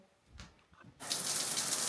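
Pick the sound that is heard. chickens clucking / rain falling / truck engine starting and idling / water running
water running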